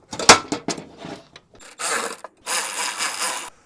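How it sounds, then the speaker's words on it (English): A part on a crashed Mercedes CLA under repair is tightened into place, giving close ratcheting clicks and mechanical rattles followed by two longer grinding, rasping bursts, with no voices. "I'm gonna tighten this in place."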